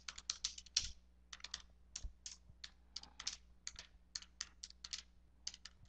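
Brisk typing on a computer keyboard entering replacement text in video editing software, rapid bursts of crisp key clicks with short pauses, close and alone over a faint low hum.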